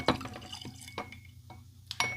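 Gilbey's dry gin trickles into a glass in the last dribbles of a bottle, a few sharp drips and splashes spaced irregularly, close and fairly quiet.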